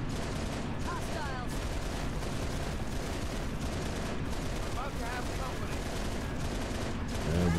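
Continuous gunfire in Halo: Reach, dense rattling shots over a chaotic battle mix with voices speaking throughout.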